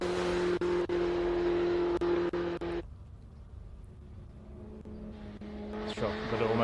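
A classic race car at the Simola hill climb drifts through a set of S-bends, its engine loud and steady before cutting away sharply, then a quieter stretch as another engine note rises again near the end.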